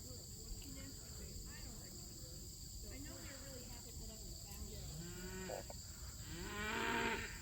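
Cattle on a farm moo at feeding time, several drawn-out lowing calls rising near the end with one loud close moo, over steady insect chirring and faint background talk.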